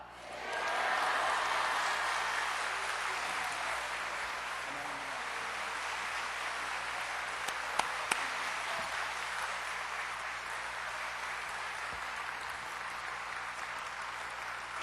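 A church congregation breaks into sustained warm applause welcoming a guest speaker to the front, dense clapping swelling at the start and holding steady throughout with a few sharper claps near the middle.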